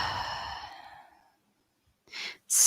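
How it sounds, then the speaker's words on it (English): A long, audible exhale during a yoga class, a breathy sigh that fades out over about a second, followed by silence and then two short breathy bursts close to the microphone. "Long breath out."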